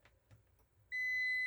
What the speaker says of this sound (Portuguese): Vou botar aqui no bip, porque como é um ponto de resistência zero, é para bipar